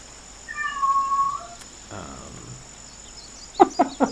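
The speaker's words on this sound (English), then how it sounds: "What is that your Alex, would you quit meowing?" A drawn-out cat meow near the start, then a few short chirpy sounds at the end. The cat is fairly close and moderately loud against a quiet background.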